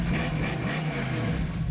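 A 1967 Camaro V8 with ceramic-coated headers and a Flowmaster exhaust rumbles and revs, a deep, steady burbling drone that is loud and continuous, with no talking over it.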